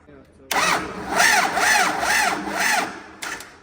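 A mid-pitched MTZ tractor engine turning over in a steady, rhythmic cranking cycle of repeated pulses, loud and close, without catching, after water got into the engine.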